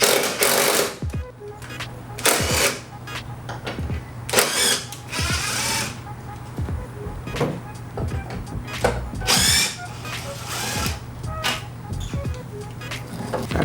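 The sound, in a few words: socket wrench removing fender bracket bolts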